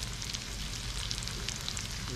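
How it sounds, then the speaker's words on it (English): Food sizzles and crackles steadily in a hot pan, a continuous frying hiss with small pops throughout. "Sizzling."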